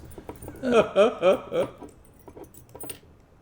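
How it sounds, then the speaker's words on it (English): Metal keys jangle and clink against a long-nose warded padlock shackle as they are worked off it, several close, bright rattles in a quick burst that then fade into quieter handling noise. "Here's another little brain teaser, getting the keys off the shackle"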